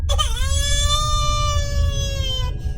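A single drawn-out, high wailing cry, held steadily for over two seconds before cutting off, over a low rumbling background.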